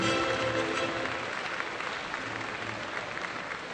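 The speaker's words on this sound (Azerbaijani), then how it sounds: "gəlin hər bir ölkənin nümayəndəsinə bir layiqli alqış səsləndirək" An audience at an international science olympiad award ceremony applauds, a dense, steady wash of clapping from many hands that holds evenly for a few seconds without talk.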